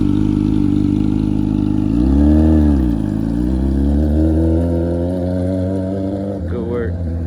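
A Honda CBR F4i 600cc motorcycle engine idles loudly up close, then swells through a throttle rev and falls back, holding a steady rumble before a brief voice cuts in near the end.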